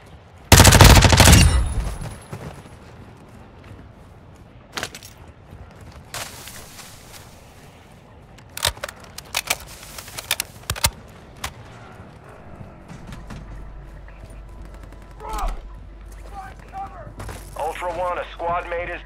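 Bursts of gunfire in Call of Duty Warzone 2.0 DMZ on Ashika Island, a heavy volley up front and then scattered sharp shots and short rattles, with radio-style voice callouts partly over the shooting.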